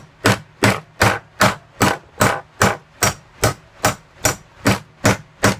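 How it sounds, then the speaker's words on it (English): A hammer strikes a coupler being driven down onto a socket for a sprue extender, thirteen sharp, evenly spaced knocks at close range, one roughly every half second. "Hammer it down."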